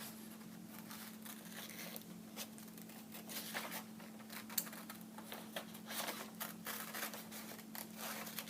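Scissors snip around a drawn paper figure, quiet crisp cuts and paper rustles coming in irregular bursts against a faint steady hum.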